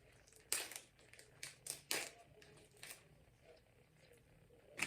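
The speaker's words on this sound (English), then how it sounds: "And just peel off of the stem." A fresh greens leaf being peeled off its stem, giving soft, close crinkling and tearing snaps in short irregular bursts against a quiet background.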